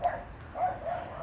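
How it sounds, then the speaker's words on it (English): A neighbour's dog barking from next door, a few short muffled barks at a moderate distance. "Next door's dog has got a keen interest in the fact she can hear you"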